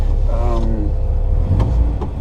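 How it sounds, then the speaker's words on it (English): 1965 Volvo P1800 with a stainless steel exhaust, a close, loud engine roar with rising revs and a throaty exhaust note throughout. "First impressions are kind of a roarty exhaust note."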